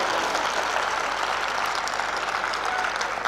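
Audience applause fills a poetry recital at a 2006 Kavi Sammelan held at Jaypee University of Engineering & Technology: dense, steady clapping from a large crowd, loud and continuous throughout with no pauses.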